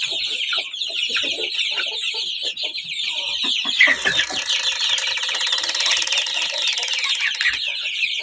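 Several Kuchin chickens and roosters cluck and chatter continuously at close range, a busy overlapping flock sound with a faint voice underneath.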